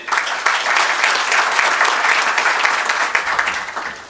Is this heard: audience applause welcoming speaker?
yes